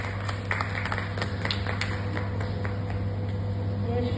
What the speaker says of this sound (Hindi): स्वाति सक्सेना जी के लिए जोरदार तालियां होनी चाहिए।